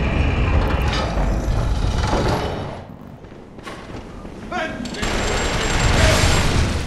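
A mechanical elevator in the video game Bloodborne grinds along with a dense, steady rumble and clatter, thinning out briefly midway before swelling back to full loudness.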